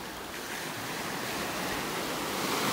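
Ocean waves break on a sandbar off a beach in North Naples, Florida, a steady wash of surf mixed with wind noise that swells slightly louder toward the end, with no voices.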